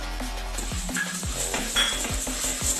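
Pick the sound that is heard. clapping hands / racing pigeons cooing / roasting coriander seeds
roasting coriander seeds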